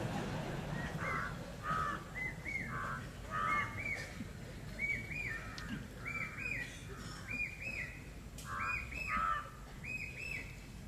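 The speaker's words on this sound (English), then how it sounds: "It's not a competition between the crow and myself." A crow caws repeatedly outdoors, calling in a steady series of harsh rising notes at moderate distance over a low background hiss, with no voices.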